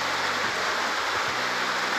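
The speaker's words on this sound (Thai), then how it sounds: "ฝนยังตกอยู่เลย" Rain falling steadily at a rural home in Thailand after a night of downpour, a continuous dense hiss of drops with a faint low hum beneath, even and unbroken.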